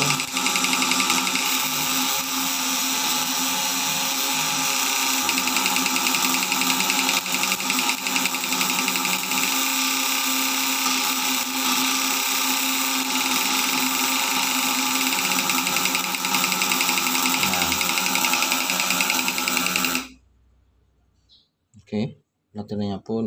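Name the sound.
points ignition tester running, flip-flop circuit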